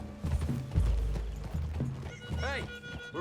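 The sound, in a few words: horse whinnying and hooves in Red Dead Redemption 2 video game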